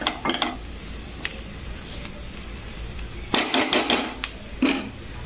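Chopped amaranth leaves fry in a pan for a peanut-powder curry, with a steady soft sizzle broken by stirring scrapes and clinks, louder bursts near the end, close and with no talking.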